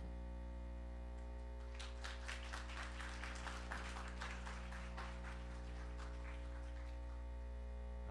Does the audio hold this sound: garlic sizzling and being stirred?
no